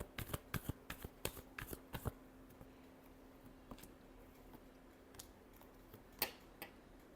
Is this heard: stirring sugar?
no